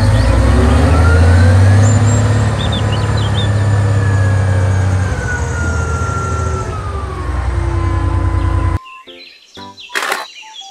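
A toy mining truck sound effect plays a loud, heavy engine rumble under a long, sweeping whine, then cuts to brief electronic beeps and clicks, with no voices.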